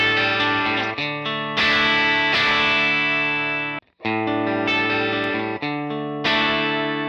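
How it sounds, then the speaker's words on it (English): Electric guitar played through a Marshall DSL20 tube amp while its presence and resonance controls are adjusted, with loud distorted sustained chords ringing out in several phrases, one brief near-silent break midway, no talking. "You also have a presence and resonance knob, and I'll demo how those sound."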